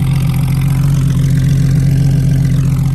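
A sports car's exhaust rumbles at idle during a Miami drive, a loud, deep, steady burble very close to the microphone for the full three seconds, with no voices.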